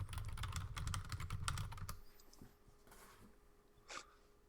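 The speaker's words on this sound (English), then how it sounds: "I realized how loud my typing is on here. It's like da-da-da-da." Fast, loud clatter of typing on a computer keyboard during a live day-trading stream, a dense burst of keystrokes that stops abruptly, followed by a few scattered faint clicks.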